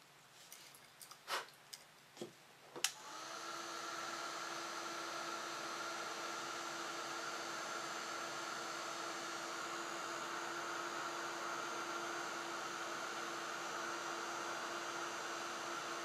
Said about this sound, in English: then I'm going to heat this to set the embossing glitter around the outside of my circle.